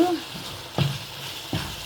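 Fenugreek leaves are stirred into tomato rice in a sizzling pan, with two distinct scraping stirs against a steady frying hiss, close and moderately loud.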